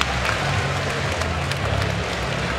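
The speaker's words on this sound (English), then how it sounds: "Look how responsive this crowd is here" A college wrestling crowd at a 125-pound bout roars with steady, loud cheering and applause throughout, a dense wash of clapping and voices.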